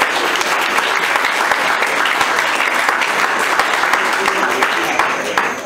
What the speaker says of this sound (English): Please clap yourselves.